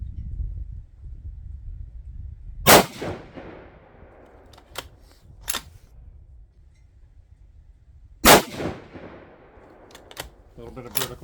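A 6.5 Creedmoor rifle firing 130-grain ELD-M loads gives two loud, sharp shots about five seconds apart. Lighter mechanical clicks of bolt handling fall in between.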